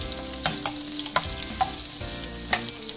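Onion rings sputter and crackle in hot frying oil, a dense close sizzle with sharp pops and stirring taps over three seconds, no talking.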